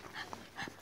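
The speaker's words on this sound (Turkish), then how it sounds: "Hayır, hırlamayın birbirinize." Dogs snarl and growl at each other up close, two quick rough bursts of canine noise at low volume, with no talk over them.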